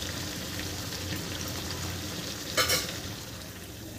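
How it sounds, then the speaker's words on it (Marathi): Pakoras frying in hot oil, a continuous close bubbling sizzle with a brief sharper crackle and clatter partway through as they are turned. "पकोडे तळून घ्यायचे आहे।"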